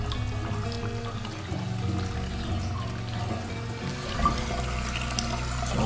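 Water runs from a newly installed fixture in a secondary bathroom of a house in Jamaica, a steady nearby splashing flow with a faint tonal hum underneath and no talking.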